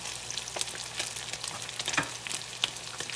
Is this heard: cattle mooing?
no